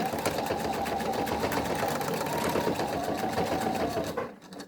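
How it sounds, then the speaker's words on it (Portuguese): A sewing machine runs a seam to fix a strap onto fabric for a vintage clutch bag. It whirs in one loud, fast, steady burst for about four seconds and then stops abruptly, with no talking over it. "vou passar uma costura para prender"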